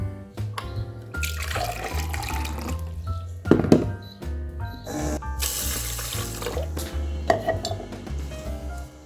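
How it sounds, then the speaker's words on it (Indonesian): Water is poured into a pot of rice for cooking in a home kitchen, a continuous splashing flow mixed with clinks of a pot and utensils and a low hum beneath, close by and without talk. "Oke, sekarang kasih air. Oke, kurang dikit lagi airnya."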